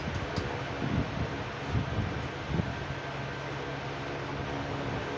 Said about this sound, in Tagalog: malakas yung hangin na naman